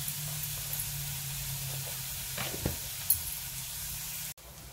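Onions frying in a pan for a bhindi (okra) masala, giving a steady, moderate sizzling hiss with a few faint stirring scrapes, ending in a brief cut.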